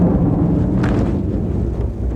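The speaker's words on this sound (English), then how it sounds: "We just had an explosion." A loud, close, deep rumbling explosion at an airbase during the Gulf War, rolling on continuously with a heavy low roar and no voices.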